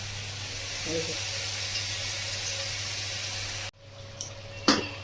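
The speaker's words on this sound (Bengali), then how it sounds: "আর এখানে মাছের ঝোলের আলু একটু ভাপিয়ে নিচ্ছি" Potatoes for a fish curry steam in a kitchen pot, giving a steady, moderately loud hiss that cuts off abruptly partway through, followed by a couple of brief clinks.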